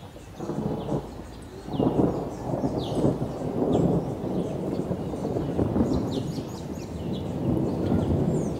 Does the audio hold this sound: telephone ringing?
no